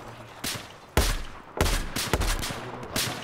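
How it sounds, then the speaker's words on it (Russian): Sniper and rifle fire in the video game Battlefield 4, heard as four or five sharp, loud shots spaced irregularly over a low background rumble. "Кто там по мне такой снайпер косой стреляет?"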